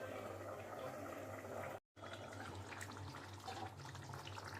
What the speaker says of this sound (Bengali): এর মধ্যে জল দিয়ে দেবো, দিয়ে ঢাকা দিয়ে একটু সেদ্ধ বসিয়ে রাখবো।